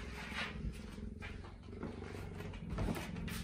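Cheetah purring close up, a low continuous rumbling throb with a few louder breathy swells and soft rustles, with no talking.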